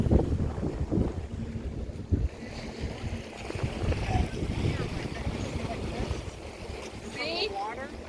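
Waves washing onto a Lake Michigan beach after a stormy night, a steady broadband rush with heavy wind buffeting the microphone throughout.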